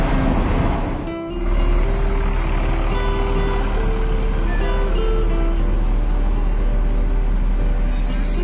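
A Volvo bus backs into Kampung Rambutan terminal with a loud, close engine rumble and steady tonal reversing beeps. The sound dips briefly near the start, and a burst of air hiss comes at the end.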